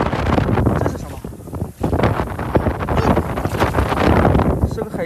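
A strong gale roars at the seashore on a beach at low tide, buffeting the microphone with loud, continuous rushing gusts throughout, with a voice talking underneath.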